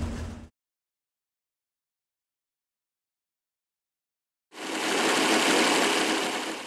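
A stage two small block Chevy engine idles on a dyno while warming up: a loud, steady, broadband mechanical roar comes in after a brief burst and a long stretch of silence, and it runs to the end with no talking.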